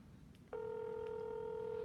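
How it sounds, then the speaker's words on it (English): After a brief quiet moment, a steady electronic telephone tone starts abruptly and holds evenly, clear and close, consistent with a call being placed. "Let's see if I can get her on the phone."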